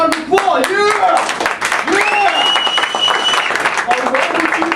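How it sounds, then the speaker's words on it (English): Audience claps for volunteers at an improv comedy show, a dense patter of hands heard under loud overlapping voices and shouts from the crowd. "give him a round of applause"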